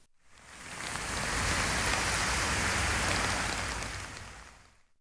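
A heavy downpour pours steadily outdoors, a dense hissing roar that swells and fades over a few seconds, with no voices.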